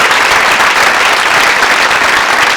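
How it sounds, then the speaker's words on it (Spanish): Loud, sustained applause from a large crowd, a thick continuous wash of clapping with no pauses. "Y un aplauso,"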